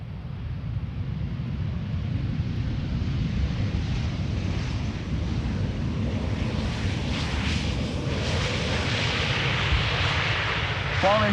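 Arriving passenger airplane on the Warsaw flight at Amsterdam Schiphol, a steady broad engine roar growing slightly louder toward the end amid outdoor wind noise at a morning airport.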